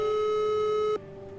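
A steady telephone line tone heard while calling a number: one continuous electronic beep that holds for about a second, then cuts off abruptly, leaving a quiet line hum.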